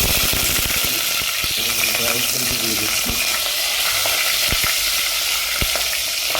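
Cumin seeds, bay leaves and chili hit hot oil for a veg sabji, giving a loud, continuous sizzle and crackle with scattered sharp pops throughout.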